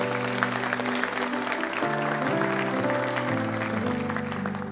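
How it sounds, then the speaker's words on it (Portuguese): Church congregation applauding during a sermon, a steady broad wash of clapping over sustained organ or keyboard chords that shift in pitch, no speech on top. "Aplauda ao Senhor"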